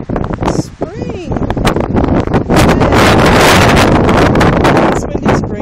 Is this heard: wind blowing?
yes